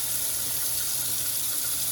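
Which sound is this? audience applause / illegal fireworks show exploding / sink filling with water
sink filling with water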